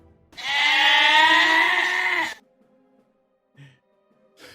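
A goat lets out one loud, wavering bleat lasting about two seconds, close and clear, followed by near silence with a couple of faint small sounds.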